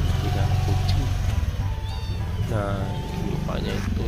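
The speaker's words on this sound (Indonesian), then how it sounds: "ini adalah anak-anak kucing yang sedang kelaparan. Dia meminta makan." Three hungry stray kittens mewing in short, rising cries over a steady low engine-like hum, with brief voices in the background.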